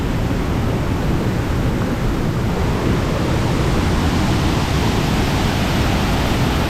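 A powerful natural waterfall flowing out of a tunnel in the Vagamon hills roars steadily and close, a dense unbroken wash of crashing water with no voices.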